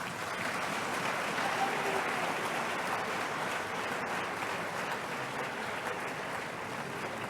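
Sustained audience applause for an honorable minister at a university faculty's 40th anniversary ceremony, a dense steady clapping filling the room at a constant level without a break.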